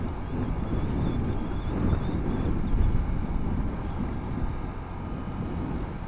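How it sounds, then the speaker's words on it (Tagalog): Strong typhoon wind buffeting a rider on a Kymco Like 125 scooter, a loud continuous low roar and rumble that swells and eases, with no talking. "Sobrang lakas ng hangin"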